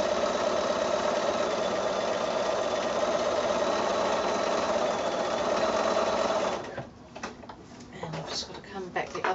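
A sewing machine stitches quilt pieces along a seam line in a steady, fast, loud whir for several seconds, then stops, leaving rustling fabric handling and someone talking.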